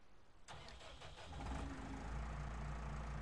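A medium tractor engine in Farming Simulator 19 cranks over with a sudden start, then settles into a loud, steady low rumbling idle that swells and holds, close up with no talk.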